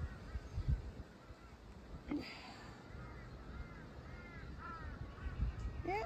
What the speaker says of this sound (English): Oh, I've got crows.